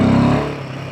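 A Royal Enfield Himalayan 450 motorcycle engine on a steep climb gives a short, throaty burst of engine tone that quickly eases off, all within about a second.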